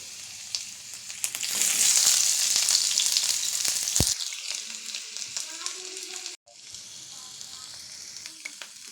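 Garlic and onion sizzle loudly as they fry in a pan, a dense steady hiss that swells after a second or so, eases, breaks off briefly, then resumes with scattered pops.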